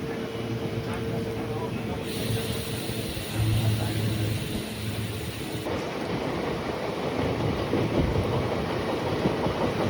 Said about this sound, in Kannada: ಸ್ಟಾರ್ಟ್ ಆಯ್ತು ನೋಡ್ರಿ ನಮ್ಮ ಟ್ರೈನ್ ಸ್ಪೀಡ್ದು.